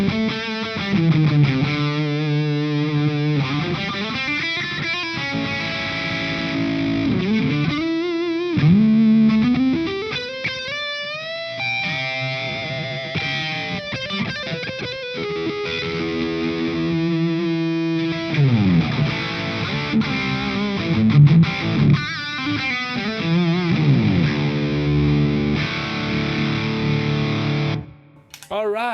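Electric guitar played through a Victory V1 Jack pedal, giving a distorted, gritty tone with sustained chords and melodic runs, close and continuous.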